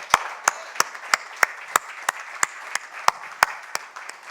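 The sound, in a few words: congregation applause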